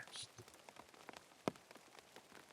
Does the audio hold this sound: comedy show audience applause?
no